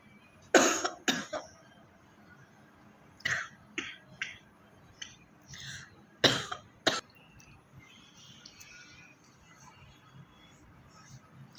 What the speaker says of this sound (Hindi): मेरा मतलब खांसी भी बहुत ज़्यादा होती जा रही है